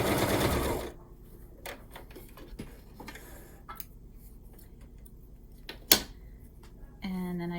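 Sewing machine stitching a micro mini quilt, a brief burst of motor whir at the start followed by quiet handling clicks and small knocks, ending with another short run of stitching.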